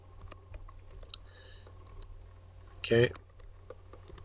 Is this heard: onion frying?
no